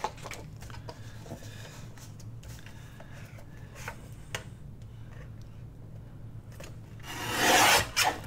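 Paper trimmer slices vellum paper for a craft project, a quiet scratchy rasp of small rubs and ticks ending in a louder brushing swipe near the close.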